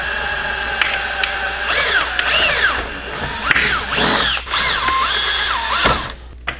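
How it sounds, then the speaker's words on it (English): A 3/8 inch power drill boring into a plastic car bumper while fitting widebody hardware, loud and close, with rising and falling whining motor bursts and brief pauses between pulls of the trigger. "Grab our 3/8 drill."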